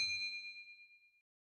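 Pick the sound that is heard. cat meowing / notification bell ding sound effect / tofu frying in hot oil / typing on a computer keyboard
notification bell ding sound effect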